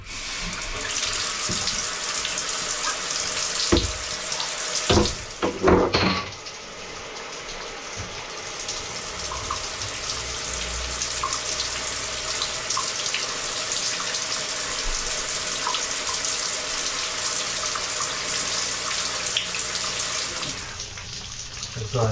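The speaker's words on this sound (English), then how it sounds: "Let's run some water." Water runs steadily from a tap while a clogged drain is being cleared, a continuous splashing hiss with a few knocks and clunks near the start.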